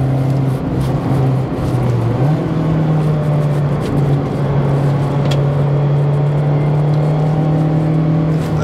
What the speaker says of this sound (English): I love the whine that you get out of the ND